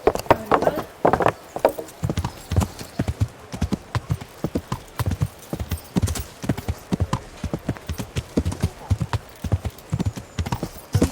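Horse hooves galloping through a town in the video game Kingdom Come Deliverance, a fast, loud, rhythmic clip-clop running throughout with an occasional whinny.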